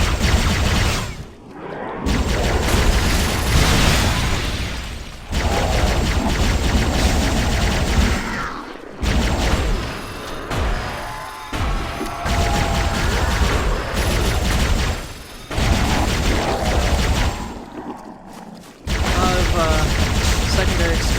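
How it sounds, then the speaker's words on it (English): Repeated explosions and heavy weapons fire in the game Halo SPV3, loud bursts with secondary blasts in quick succession, under a player's talk. "Secondary explosions going on there."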